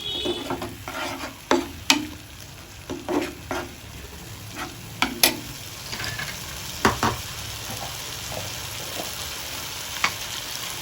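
Cashew paste goes into a frying curry base for a yogurt eggplant dish, with sizzling oil under repeated close stirring scrapes and spoon taps on the pan at an uneven rhythm.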